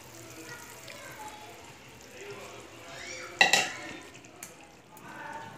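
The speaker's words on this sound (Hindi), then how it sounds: "अभी हम चाशनी को मावे में डाल देंगे।" Sugar syrup being poured and stirred into khoya for zarda in a home kitchen, a faint wet sizzle and swirl with a brief clink of a utensil against the pan partway through, and soft speech in the background.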